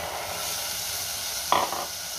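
Masala paste fried with soaked white peas for a spicy rassa bhaji is stirred in a pan, a soft continuous sizzle broken by one short scraping clatter of the spoon midway.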